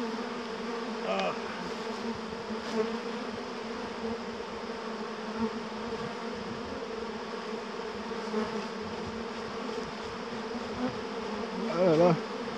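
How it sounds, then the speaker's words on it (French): A dense mass of honeybees on a hive frame, a steady loud buzzing drone filling the whole stretch, close and continuous, with slight swells near the end. "Oh, la quantité d'abeilles qu'il y a là, c'est impressionnant."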